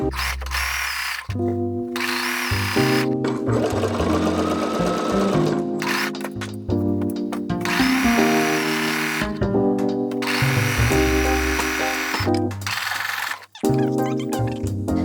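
A sewing machine fitted with a quilter's patchwork foot stitches linen in loud, whirring bursts of rapid mechanical clatter, stopping and starting several times with short pauses between runs.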